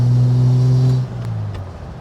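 A 1972 Datsun 240Z engine drones steadily under acceleration, then its pitch drops sharply as it shifts into the next gear and keeps pulling at a lower note, heard from inside the cabin.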